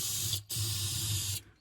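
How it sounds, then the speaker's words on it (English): Starter fluid labeled quick start hisses as it is sprayed into the engine of a Can-Am Outlander ATV out in the woods, two close bursts split by a short pause. "The starter fluid. That's French. In English it says quick start. Spray some in."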